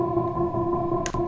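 Airy, sustained synth pad chopped by an auto-pan into rapid sixteenth-note pulses, steady and upfront, with a brief bright burst near the end and no voices.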